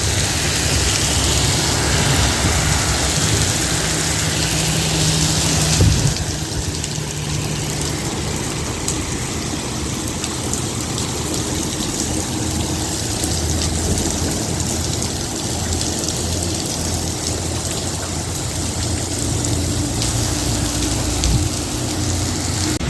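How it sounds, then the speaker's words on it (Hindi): Heavy rain with hail pours down in a steady, dense roar, with a low engine rumble running underneath the whole time. "बहुत तेज़ बारिश है"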